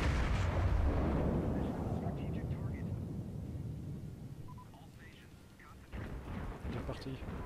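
Heavy naval gunfire in World of Warships, a deep booming salvo with a long rumbling decay while someone talks over it.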